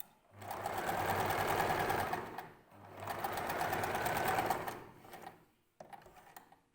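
A sewing machine stitches a long dress in two sustained bursts of rapid, even needle chatter separated by a short pause, followed by a brief final run and a few clicks.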